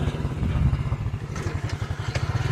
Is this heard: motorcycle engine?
yes